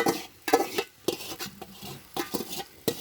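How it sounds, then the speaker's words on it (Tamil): Chicken being sautéed and stirred in a cooking pot for biryani, with irregular metallic scrapes and clanks of a spoon against the pot over a faint sizzle, close and uneven in rhythm. "குண்டால போட்டு வதக்கணும்"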